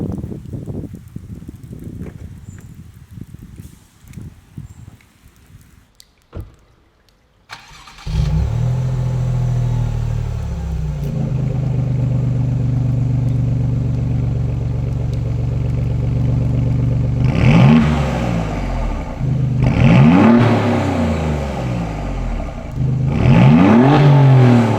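An Alfa Romeo Giulia Quadrifoglio GTAm sits quiet in the rain, then its engine starts with a loud bark into a steady idle and drive, with sharp revving pulls rising and falling near the end.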